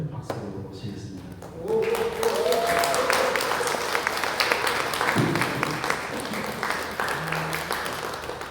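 Applause welcoming a lecturer to a humanities lecture, a room of people clapping steadily for several seconds after a voice speaks at the start, with the clapping continuing over a short pause.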